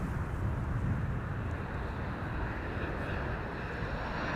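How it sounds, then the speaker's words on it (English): Ryanair Boeing 737 arriving from Dublin at Amsterdam Schiphol Airport, a steady broad jet engine roar heard from a distance, continuous and fairly even without talk. "Ryanair arriving from Dublin, Ireland. (737)."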